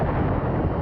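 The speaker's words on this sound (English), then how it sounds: "As the asteroid strikes, it causes an unimaginably huge explosion." A huge asteroid-impact explosion as a documentary sound effect: a dense, loud, roaring rumble heavy in the low end, sustained without break for the whole moment.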